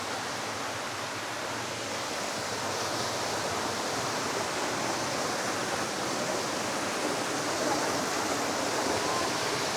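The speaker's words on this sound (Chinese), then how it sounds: "一路的瀑布" A waterfall beside a mountain hiking trail in Hunan roars as a loud, unbroken broadband rush that holds steady throughout with no break.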